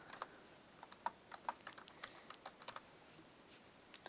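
Typing on a computer keyboard, a quick irregular run of soft clicking keystrokes close by, fairly quiet, with no talking.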